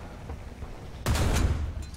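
A tank cannon fires in War Thunder, a single sharp, loud blast that bursts in midway after a quiet stretch of low engine rumble and then rolls off into a booming tail.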